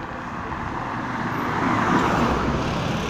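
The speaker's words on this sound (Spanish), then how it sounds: "Aquí tenemos pues los carros que pasan" Cars passing along a residential street in Arima, a continuous broadband road rumble that swells gently as vehicles go by, moderately loud with no talk.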